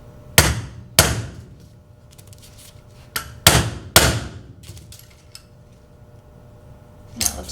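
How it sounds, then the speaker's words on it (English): Sharp mallet whacks on a glued, clamped wooden picture frame piece, several loud close knocks in irregular pairs with brief pauses between them. "whack it a couple times with the mallet"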